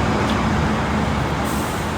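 Buses on the way to Hyderabad pull in at a roadside restaurant stop at night, giving a loud continuous diesel engine rumble with traffic noise and a short hiss near the end that resembles an air brake.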